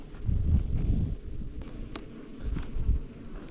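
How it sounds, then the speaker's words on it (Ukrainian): A wasp drones and buzzes close by inside a beehive, a low fluttering hum that swells and fades, with faint clicks and rustling from the hive around it. "Точно, літає оса в вуликові."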